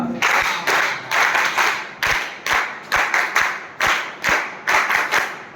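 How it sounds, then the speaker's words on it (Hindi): A group claps in unison during an emergency hand-stretcher training session, sharp rhythmic bursts of many hands striking together in short volleys with brief pauses between, close and loud. "एक बार आप सर्व लोगों के लिए पंचताली बजाएंगे, एक साथ ताली बजा।"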